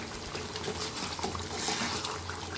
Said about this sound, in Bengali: ওই বাটিটা আমি মশলা দেবো একটু জল দিয়ে দিলাম